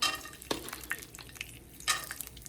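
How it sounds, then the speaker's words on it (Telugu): About two teaspoons of peanuts frying in heated oil in a pan for lemon rice, a quiet sizzle with several sharp spoon-scraping stirs, no talk. "So oil కాగిందండి. నేను ఇందులోకి పీనట్స్, ఒక 2 టీ స్పూన్ పీనట్స్"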